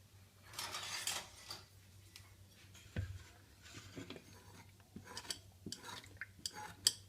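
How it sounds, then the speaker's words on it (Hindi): A spoon stirs wheat flour batter that has settled at the bottom under separated water, giving soft scattered clinks and scrapes against the container, fairly quiet with no talking. "अब हम इसको चम्मच से घोल देंगे।"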